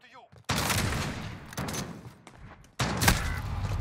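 Video game gunfire in repeated bursts, each a loud rattling volley of rapid shots broken by short pauses, with a voice heard briefly at the start.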